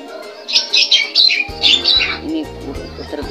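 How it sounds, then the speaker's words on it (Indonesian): Caged doves cooing at a home, low soft pulses starting partway through, mixed with louder higher-pitched squawking from other birds nearby. "Ini burung puter biasa guys."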